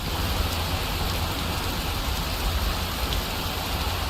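Steady rain falls in Skyrim, a constant dense hiss with no breaks, heard alone and fairly loud.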